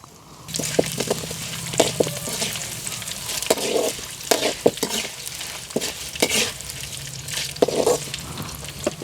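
Chana dal, garlic and dried red chillies sizzle in hot oil for a tempering, with a steady frying hiss under repeated close scrapes and knocks of a spoon stirring the pan.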